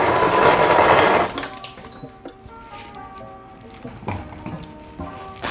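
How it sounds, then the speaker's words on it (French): A refrigerator door ice dispenser grinds and pours crushed ice in a loud rattling burst for about a second, then lighter clinks and tinkles of ice settling into a glass follow. "je sais pas comment me servir d'un frigo qui fait des glaçons"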